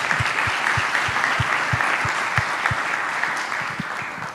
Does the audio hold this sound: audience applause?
yes